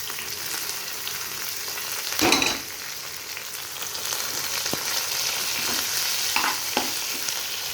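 Continuous sizzling of onions in a pan, with a louder burst of hiss as kulekhara leafy greens go in, then occasional stirring scrapes and pops.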